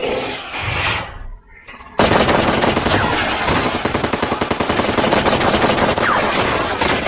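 Sustained machine gun fire from an action movie rings out loud and dense, a rapid continuous burst of shots that starts abruptly after a brief rumbling lead-in and runs to the end without any talk.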